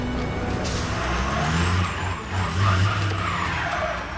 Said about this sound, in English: Wet roads and a steep climb. His truck is struggling for traction.